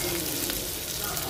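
Carrot pieces and peas fry in a pan for oats upma, giving a steady, close sizzle that fills the short moment without any talk.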